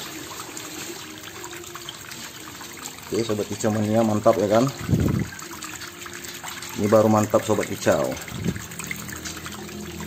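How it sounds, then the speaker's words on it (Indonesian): Water trickles steadily and softly throughout, while someone talks over it in two short stretches. "Gemercik airnya dapat ya, suaranya pun tenang"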